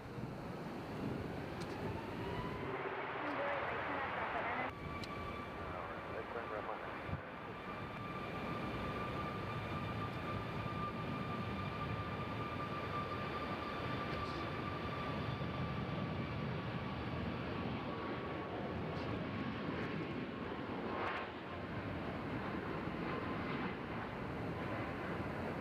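An airliner taking off from the runway at Nashville International Airport gives a broad, steady roar that holds for the whole stretch, heard from a distance, with no talking.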